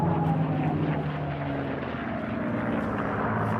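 A P-51 Mustang propeller fighter in wartime livery passes at an air show, a continuous deep droning engine roar holding steady throughout at moderate distance.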